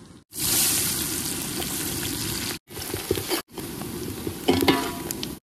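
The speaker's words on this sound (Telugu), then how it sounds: "కడి వేసుకొని ఇప్పుడైతే మనం ఉల్లిగడ్డలు వేసుకుందాం" Onions dropped into hot oil in a pan for village-style country chicken curry, giving a loud, steady sizzle that breaks off briefly twice and then returns, with some stirring and clinking near the end.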